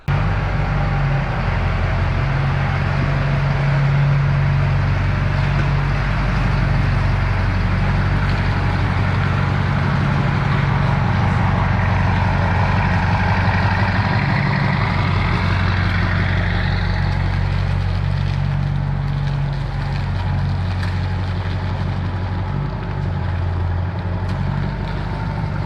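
A Duramax diesel dually pickup runs steadily outdoors, its deep engine drone and low rumble holding constant for the whole stretch at moderate distance, with no talking.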